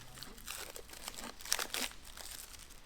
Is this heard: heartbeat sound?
no